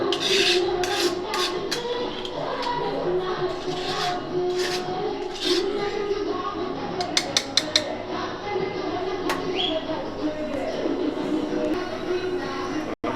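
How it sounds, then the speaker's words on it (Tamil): A pot of boiling seer fish curry is stirred, giving a continuous scraping and rubbing with light metallic clinks of a spoon against the pot under a steady bubbling bed of noise. "குழம்பு நல்லா வெந்து கொதிச்சு வரதை கிண்டி விட்றாங்க"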